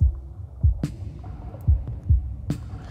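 Deep, booming drum hits in an irregular pattern, with a kick-like thud and occasional sharper snare or hat strikes, a drum track soloed in Cubase.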